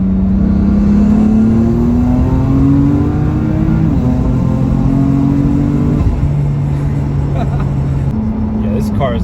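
A BMW F80 M3 with stage 2 turbos pulls hard on a highway. The engine drone climbs steadily in pitch, drops at gear shifts and climbs again, loud and close from inside the car.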